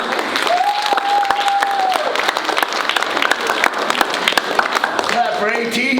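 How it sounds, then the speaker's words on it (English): Middle school students fill an assembly with dense, sustained applause, many hands clapping at once, with voices and a few shouts mixed into the crowd noise. "Clap for your teacher."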